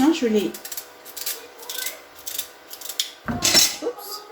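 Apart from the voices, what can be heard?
knife slicing sweet potatoes into rounds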